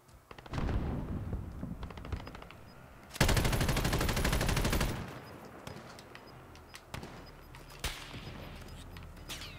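Call of Duty Warzone gunfire with sniper shots: a dense rapid burst of automatic fire lasting a couple of seconds, surrounded by scattered sharp single cracks and quieter distant shots, fairly faint overall.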